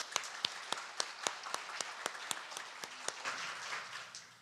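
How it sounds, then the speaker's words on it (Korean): A church congregation at an Easter dawn service claps in a slow, steady rhythm of sharp, evenly spaced beats that loosen into a broader wash of applause near the end. "우리 하나님과 부활하신 주님께 영광의 박수 올려드리겠습니다"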